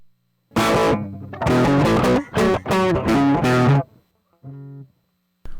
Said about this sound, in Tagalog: Wala tayong reverb, wala tayong delay. Plain overdrive.